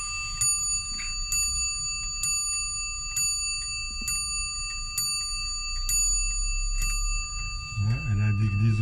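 A Zenith pendulum clock strikes the hours on a bell, with ten evenly spaced, ringing chimes, each decaying into the next, heard close and clear, followed by a faint rustle at the end.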